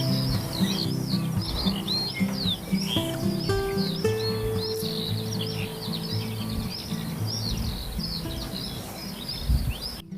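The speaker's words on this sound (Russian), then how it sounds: "А вот семейка Горехвосток в этом году решила устроиться основательно." A family of redstarts calls around their nest in spring, with repeated bright chirps and short song phrases at moderate distance over a steady low background hum.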